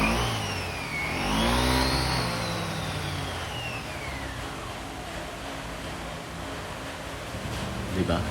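Honda Mio i 125 scooter with a stock-modified full-set center spring and clutch spring, revving hard: the engine rises to a high whine, falls back and settles into a rough idle, with someone talking over it.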